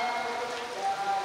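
Rain falls steadily on a tent pavilion covering a devotional gathering, a dense, even hiss of drops that stays constant and fairly loud throughout.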